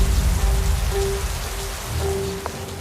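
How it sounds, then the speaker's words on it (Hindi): Heavy rain falling in a forest, a steady loud hiss of drops on surfaces that continues throughout with no voices. "तभी बारिश और तेज हुई और जंगल में बाढ़ आनी शुरू हो गई।"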